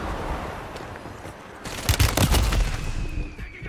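Call of Duty: Warzone gunfire crackles at moderate distance, a scattered volley of sharp shots swelling midway over steady ambient game noise.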